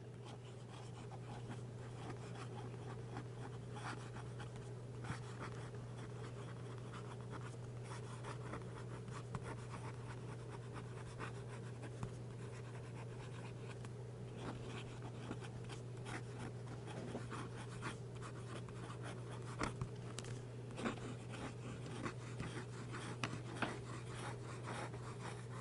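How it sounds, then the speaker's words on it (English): A TWSBI 700 fountain pen writing quickly on paper, a soft continuous scratchy nib sound with small irregular strokes over a steady low hum, close up and without talking. "Some quick writing."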